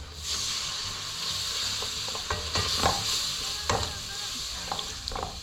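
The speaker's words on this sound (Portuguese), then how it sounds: "Adicione o leite aos poucos, mexendo para não formar grumos." Whole wheat béchamel sauce stirred in a pan as milk is added gradually, a soft continuous bubbling hiss with intermittent spoon scrapes and light taps against the pot, close and fairly quiet.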